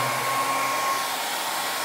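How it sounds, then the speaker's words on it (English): A hair dryer blows with a steady, loud whooshing roar and a faint high whine, running continuously on its own. "I'm going to turn on the hair dryer"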